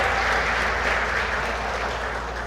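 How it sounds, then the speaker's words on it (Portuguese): A church congregation applauds during a family worship service, a dense, even roar of many hands clapping that fills the room steadily throughout, with no voices standing out. "Vamos aplaudir esse Deus que nos deixou a Bíblia, irmãos"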